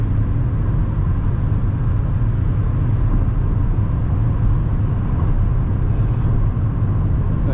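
Steady, continuous road noise from a car driving smoothly at an even speed, with a low engine and tire rumble filling the whole stretch and no voices.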